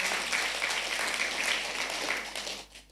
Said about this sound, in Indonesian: Tepuk tangan dulu buat Tuhan Yesus.